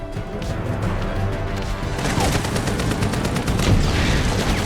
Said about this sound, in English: Those inside could not escape Whitebeard's gunfire